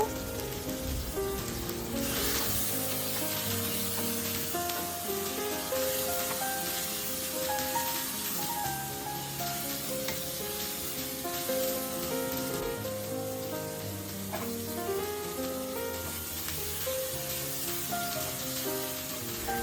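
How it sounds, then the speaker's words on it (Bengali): Shrimp frying in a pan of oil until reddened, for a Bengali shrimp and Malabar spinach dish, giving a steady, dense sizzle that runs unbroken for the whole stretch with no one talking. "এখন আমি চিংড়ি মাছ দিয়ে দিব চিংড়ি মাছগুলো একটু লাল করে ভেজে নিব"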